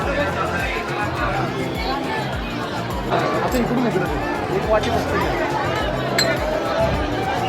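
Dense crowd chatter fills the busy hill temple fort at Jejuri, a continuous hubbub of many voices with occasional clinks, steady and close all around.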